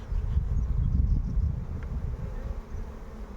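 Honeybees buzz in an open hive during a beekeeping inspection, a dense low drone close to the microphone with some wind rumble, steady and fairly loud with no talking.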